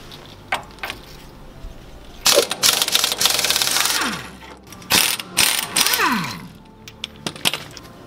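Bursts of rapid ratchet clicking as lower control arm bolts come off the front suspension of a Toyota Tacoma during a wheel bearing job, several separate runs of ticking with short pauses, close and loud.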